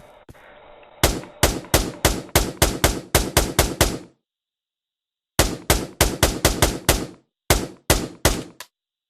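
Rapid handgun shots in the VR shooter Pavlov, fired in fast bursts of sharp, loud cracks: about a dozen in a first volley, a pause of silence, then two more quick strings of shots.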